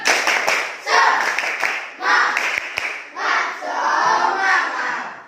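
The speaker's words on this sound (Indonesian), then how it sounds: "Pertama sekali kita tepuk semangat." A school class performs a rhythmic spirit clap in a classroom, loud bursts of group clapping in a set pattern punctuated by sharp claps and accompanied by children shouting chant syllables in unison.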